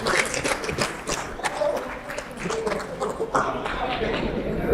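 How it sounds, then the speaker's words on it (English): Applause at a live quiz event in Madras, uneven clapping with distinct individual claps rising and falling, fairly close and moderately loud. "Please give them a big round of applause."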